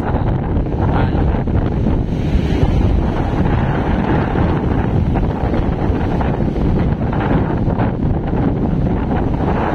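Large waves breaking at Amper Beach in Dipaculao, Aurora, during a typhoon: a constant heavy roar of surf and water, largely buried under loud, blustering wind buffeting the microphone.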